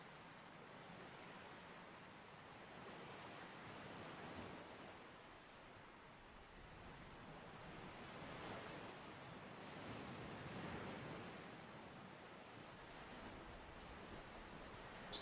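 Ocean waves wash and surge in slow, soft swells, a faint, broad rushing sound rising and falling in gentle cycles, alone without voices.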